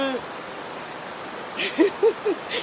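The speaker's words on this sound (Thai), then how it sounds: "ฝนตก แดดฝนตกแดด" Rain falls steadily around a Thai home, a soft even hiss throughout, with a few short voiced sounds and brief clatters rising above it near the end.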